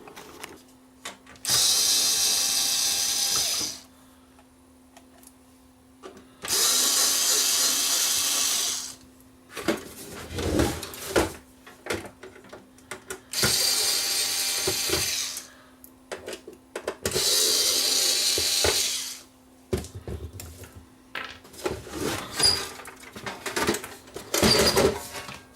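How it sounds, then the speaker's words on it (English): A faulty Panasonic VCR grinds in repeated bursts of harsh mechanical noise lasting a few seconds each, separated by clicks and clunks of the mechanism, close and loud. "Grinding noise, blue screen."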